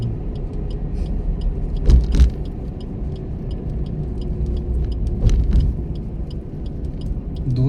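A car labors up a steep, dangerous hill road, its engine rumbling low and steady with a couple of heavier surges as it pushes on, close and loud.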